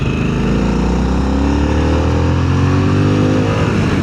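A Harley-Davidson Sportster S motorcycle engine pulls hard and close up, its loud exhaust drone climbing steadily in pitch as the bike accelerates, with no talking.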